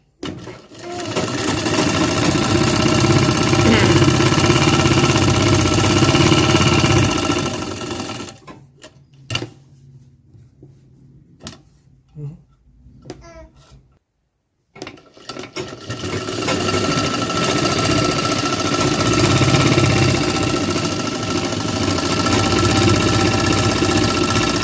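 A tailor's sewing machine stitches a garment seam in two long, loud continuous runs, broken by a quieter middle stretch of handling clicks and fabric shifting.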